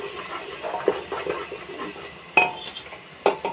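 A spoon stirs turmeric and coriander powder in a cooking pan, giving soft scraping with three sharp metallic clinks spread across the stretch.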